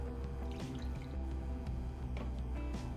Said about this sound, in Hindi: 3 कप पानी डालूंगी मैं।